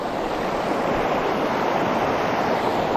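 A full, fast river runs high over rocks, a steady close roar of rushing water that fills the whole stretch without a break.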